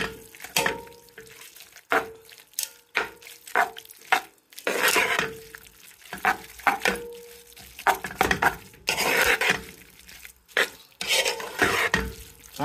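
Rice noodles are tossed and mixed in a frying pan, giving a series of close, sharp utensil scrapes and clanks in an uneven rhythm over a faint sizzle, with no voices.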